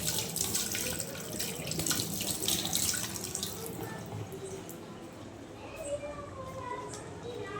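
Raw plantain is washed under a running kitchen tap, with a steady gush of water splashing into a sink that eases off about halfway through, leaving faint drips and a voice talking quietly nearby.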